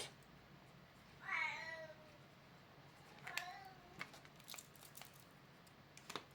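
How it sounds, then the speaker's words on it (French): A cat meows indoors, two clear drawn-out meows followed by faint clicks and rustling, quiet and close with no talk over them. "Attends, mon chat."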